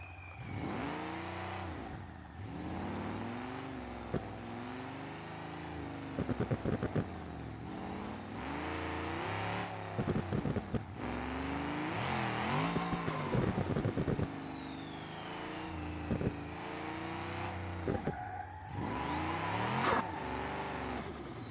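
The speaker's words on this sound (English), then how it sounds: "It also makes cool turbo sounds" A turbocharged track car in BeamNG.drive with a six-speed manual revs up and down repeatedly through gear changes, with whistling turbo whines and hissing blow-off bursts throughout.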